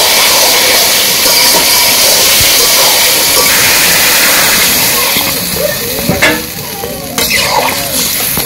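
Water poured into a hot pan of sautéed vegetables for a village-style fish curry, giving a loud, steady rushing hiss that eases slightly toward the end.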